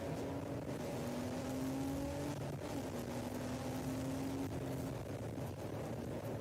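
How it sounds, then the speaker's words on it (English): Race car engine at an endurance race at VIR, blipped revs during a rev-matched downshift into a corner, a steady droning engine tone with rising and falling pitch sweeps, heard from inside the car. "Nice crisp downshift there, nicely rev matched as he heads into turn number 5 here at VIR."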